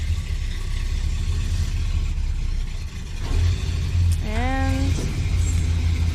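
A 1988 Chevrolet S10 Sport pickup engine runs close by at a low steady drone while the truck is driven across a leaf-covered yard, with a brief squeak and a short spoken word over it.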